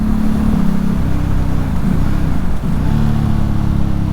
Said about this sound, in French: juste un petit coup de gaz comme si je devais doubler